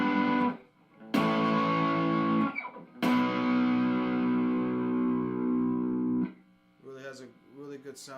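Electric guitar barre chords played through distortion, three strummed chords ringing out loud and sustained with a fuzzy, saturated tone, followed by someone talking briefly at the end.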